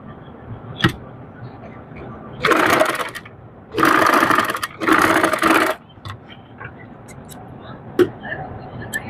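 A sewing machine stitches a button cuff sleeve in three short, loud bursts of rapid whirring, with quiet talk and handling sounds before and after.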